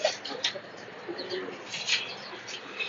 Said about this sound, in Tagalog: Ang gagaling ho ng mga kalapati niya